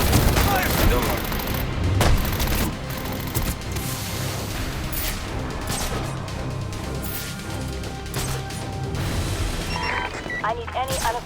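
Guards open fire in the Batman: Arkham Origins video game, a dense burst of gunshots and crashing impacts over busy game music and effects, with voices shouting throughout.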